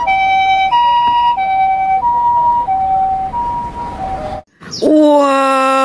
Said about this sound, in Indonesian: Widih, mobil ambulan teman-teman.